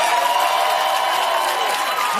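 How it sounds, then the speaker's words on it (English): A studio audience on a late-night talk show claps and cheers in a dense, steady wash of applause that cuts off abruptly at the end. "Applause for a statement of Tesla stock is down."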